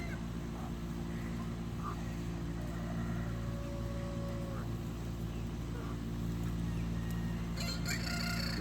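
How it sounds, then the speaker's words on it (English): A black Ayam Cemani chicken among a flock, with a rooster's crowing and scattered clucks rising over a steady low background rumble, the birds moderately distant. "Beautiful chicken."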